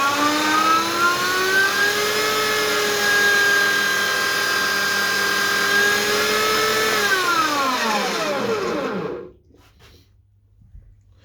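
A Scheppach DM600 Vario 550W wood turning lathe runs with a steady high motor whine, dips in pitch as the speed changes, then brakes quickly and falls silent near the end; loud and close, no talking.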